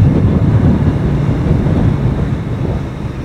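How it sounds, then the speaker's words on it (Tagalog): Strong wind buffets the microphone in a steady, loud low roar on an outdoor mountain road in Benguet, with no voices in between. "Malakas yung hangin dito, oh."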